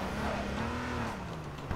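A car driving in H1Z1 hums with a steady engine tone that rises and falls slightly, heard up close for a short stretch with no talk over it.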